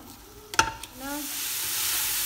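Fish soup ingredients frying in oil in a pan, a few sharp clinks and a brief scrape, then a sizzle that swells and holds steady.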